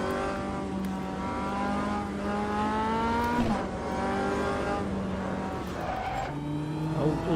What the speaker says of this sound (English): Locking the brakes.